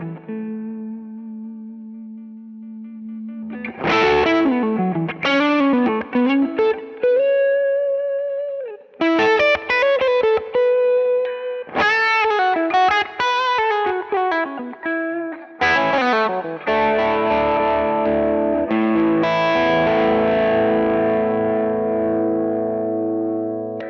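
Electric guitar played through a Fractal amp modeller set to the Carol Ann Tucana amp model at lower gain, giving clipped, lightly driven tones, loud and close, with strummed chords and single-note phrases ringing out alone.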